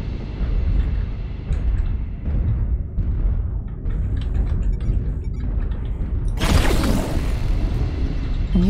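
Artillery strike explosions in a mech video game rumble as continuous heavy booms and mechanical clanking, building to a loud, bright blast near the end.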